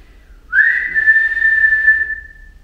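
A single sustained whistle held at one steady pitch for over a second, clear and fairly loud against a quiet background.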